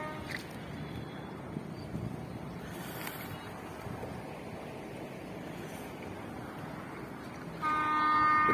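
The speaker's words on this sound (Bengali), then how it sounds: "ট্রেন আসছে আবার।" A train horn sounds at close range, starting sharply near the end and holding steady over the continuous rush of flowing water from a nearby stream.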